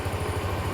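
A Honda Activa scooter engine idles steadily just after starting, a low, even pulsing putter close by with no talking.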